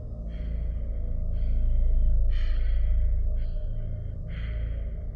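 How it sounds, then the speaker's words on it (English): Slow, heavy breaths in and out over a muffled phone line, several raspy exhalations in a steady rhythm against a low hum. "All I could hear was heavy breathing,"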